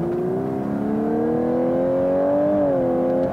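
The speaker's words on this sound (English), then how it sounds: "Let me put my foot down here a little bit." A 2018 Lexus LC 500h hybrid coupe accelerates in Sport Plus mode, its engine note climbing smoothly and steadily in pitch, loud and close, with a brief dip near the end.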